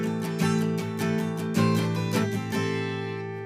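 Guitar playing a melody line, with notes moving onto the 6th string over a barre shape. Clear, close plucked notes ring out in a steady rhythm, with sustained chord tones underneath and no talking.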